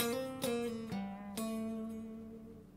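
Fender Stratocaster six-string electric guitar on the neck pickup, playing a short solo phrase: sustained bent and slid notes with a few sharp picked attacks, clear and up close with no talking.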